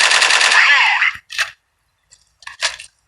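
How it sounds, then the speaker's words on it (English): Weapons fire into a shield in the video game Strike Team Online: a dense, rapid automatic burst of about a second, then silence, then a few short, sharper bursts of shots. "That is 2 full mags into the shield, and it did not break."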